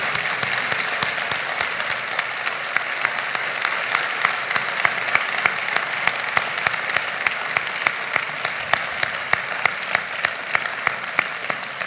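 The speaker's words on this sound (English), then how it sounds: "giving a rousing round of applause to Retired Major General Bolden" A large assembly at Morehouse's Crown Forum claps steadily to welcome Retired Major General Bolden, a sustained, even roar of many hands with sharp individual claps popping through, carrying on without a break.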